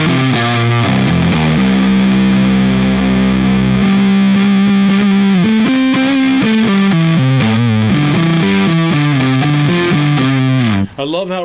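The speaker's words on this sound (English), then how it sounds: "I love how responsive the distortion is to the individual notes in a P90 neck pickup" Electric guitar with a P90 neck pickup played through a Black Sails distortion pedal, a sustained, legato distorted line of individual notes ringing loud and continuous throughout, with no talking.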